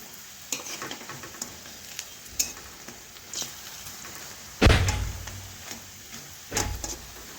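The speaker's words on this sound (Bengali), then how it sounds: "এখন আমি সমস্ত বড়াগুলো উল্টে নিচ্ছি" Pumpkin flower fritters flipped one by one in hot frying oil, crackling sizzle punctuated by several sharp scraping knocks, two louder splashes of spattering oil toward the end.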